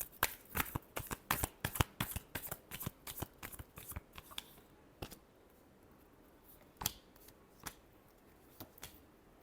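Tarot cards shuffled by hand in a run of crisp, rapid riffling bursts for about four seconds, followed by a few separate slaps and flicks of the deck, close and quiet, no talking.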